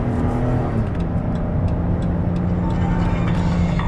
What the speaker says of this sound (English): You can hear the engine run strong.